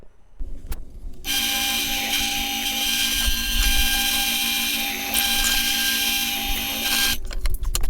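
A drill press bores a hole through a wooden board for a drill press table, a steady, loud mechanical whine running for about six seconds between quieter moments at the start and end.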